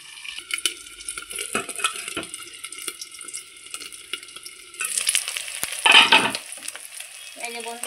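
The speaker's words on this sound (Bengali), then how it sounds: "আমার মাছটা পুরোপুরি ভাজা হয়ে গেছে" Tengra fish frying in oil crackles and spits in a pan, with a brief quieter stretch before the sizzle swells loud again, punctuated by scraping and turning sounds.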